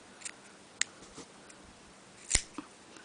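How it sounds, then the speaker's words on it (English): Scissors snip straight across braided fabric strips, giving a few sharp, close clicks spaced irregularly, with one louder snip near the end and quiet room between cuts. "Take a pair of scissors and cut straight across, and this will give you an even line."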